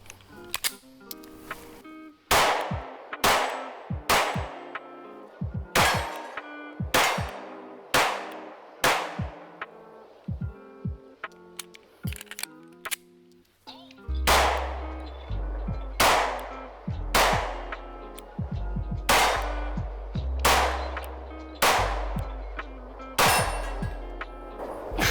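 CZ P-10 M compact pistol fired one-handed at a range: a long steady string of loud, sharp shots at a quick, slightly uneven pace, about twenty in all, with brief pauses between groups.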